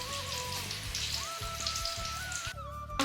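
A dense, steady crackling sizzle of garlic and cumin frying in hot oil, close and continuous, with a brief sharper burst near the end.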